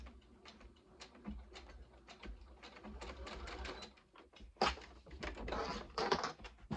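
A sewing machine stitching a fabric mini book sleeve with a quarter-inch seam, a fast rhythmic mechanical clatter close up, pausing briefly then running again in bursts.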